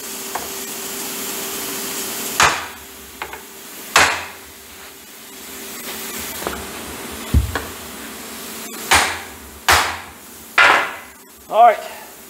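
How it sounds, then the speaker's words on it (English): Sharp metallic hammer strikes on a punch against metal ring out one at a time, about eight blows spaced irregularly, growing more frequent toward the end, close and loud. "Whoop on it with a hammer, and hopefully we make a punch mark."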